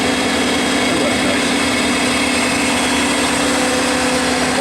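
A Cincinnati Milacron Heald 361 horizontal-spindle rotary surface grinder runs with a steady, loud machine drone and a constant low hum, unchanging throughout.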